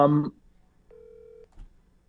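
Telephone keypad tones as a call is dialed, a short steady electronic tone after a brief burst of sound, quiet and close, with no voices.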